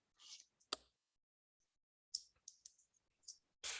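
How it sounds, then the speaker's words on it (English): Computer keyboard shortcut keys pressed during Photoshop brush retouching, a few sharp isolated clicks with a single loud tap standing out among softer scattered key sounds, close and quiet. "I hit Command or Control Z to get out of what I just did."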